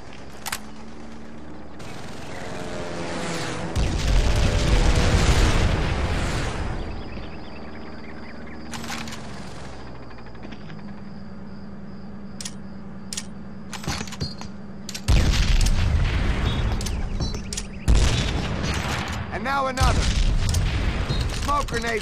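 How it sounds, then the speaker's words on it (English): Frag grenade explosions in Call of Duty World at War, several loud booming blasts at intervals with rumbling decay, interspersed with quieter game sounds and a voice giving instructions. "Toss a frag grenade through it"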